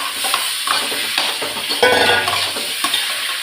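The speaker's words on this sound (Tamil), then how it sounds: "கட் பண்ணி வச்சுருந்த மாங்காவை போட்டுக்கிறேன்." Cut raw mango pieces tipped into a pan of frying onions, giving a sizzling hiss with scraping stirs and light clinks of a spatula against the pan, close and fairly loud.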